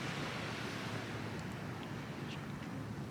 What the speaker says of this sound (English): And then just onto the lovely sandy beach with the palm trees.